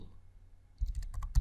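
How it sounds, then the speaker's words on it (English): Several quick computer-keyboard keystrokes while a command is entered, starting after a short quiet pause with a cluster of close clicks and a sharper final tap. "typing pip install"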